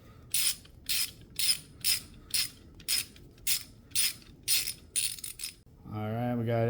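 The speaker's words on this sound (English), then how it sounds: "We're going to go ahead and pull the old plug out." A ratchet wrench with a long extension works an old spark plug loose from a Nissan Xterra engine, giving about a dozen evenly spaced clicking bursts close up, then a sustained whirring tone at the end.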